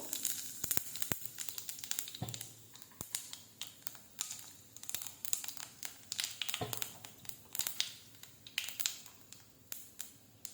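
Mustard seeds and cumin hit hot oil while making green corn chevdo, setting off sharp, irregular crackles and pops over a soft sizzle, close by and with no talking.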